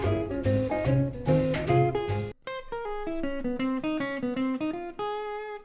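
A jazz guitar plays a phrase in a warm, conventional jazz tone, with a run of clean single notes shifting into a brighter, more sparkling stretch halfway through, close and moderately soft, with nobody speaking.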